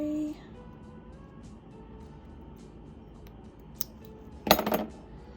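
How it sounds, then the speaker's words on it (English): Scissors snip embroidery thread free on a floral embroidery kit piece: a single quick metallic snip near the end, close and crisp, following a quiet stretch with a faint tap just before it. "Just gonna snip it free."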